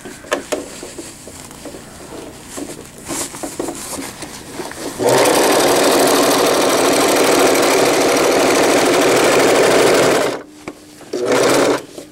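A sewing machine stitches elastic casing on a pocket diaper, first in short irregular bursts and then in a loud, steady, close whir for several seconds, stopping briefly before one more short run.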